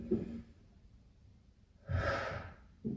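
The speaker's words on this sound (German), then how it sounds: "Noch einen tiefen Atemzug." Deep breaths taken during a torso mobility exercise: a short breath at the start, then a long, airy inhale and exhale in the middle, and another breath beginning at the end, close and quiet.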